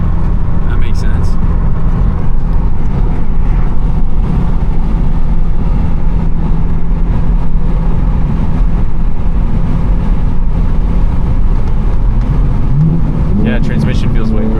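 BMW G80 M3 engine droning steadily and loudly from inside the cabin while driving on a cruise, a constant rumble with someone talking over it throughout.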